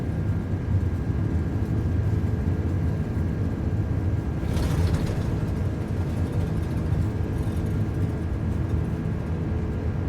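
Airbus Beluga XL engines in the MSFS2024 flight simulator during the takeoff roll, a steady loud broadband jet roar throughout with a brief brighter surge near the middle.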